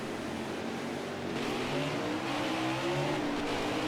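Race cars in NASCAR Heat 5 roar off the start at the Great Coliseum, a steady dense engine drone with rising revs, loud and continuous throughout.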